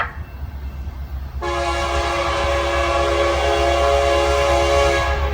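A Norfolk Southern freight train led with a CN locomotive rumbles past close by, and after a quieter start a loud, sustained multi-tone horn blasts for several seconds over the rail noise.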